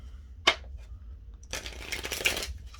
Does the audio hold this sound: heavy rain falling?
no